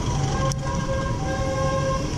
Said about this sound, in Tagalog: tabi muna tayo, may ambulansya sa likod. Paunahin muna natin.